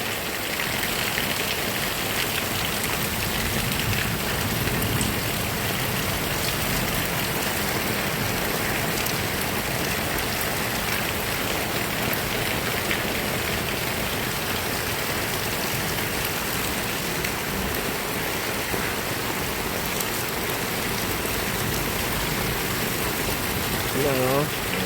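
Rainwater drips steadily from a damaged gutter after a strong rain shower, a continuous patter and trickle under a constant wash of rain noise, with a low engine hum in the background.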